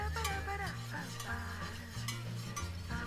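A flour roux white sauce for scalloped potatoes and onions is stirred steadily in a pan, with a soft continuous sizzle and the scrape of a utensil running through the whole stretch, fairly close and with no voices.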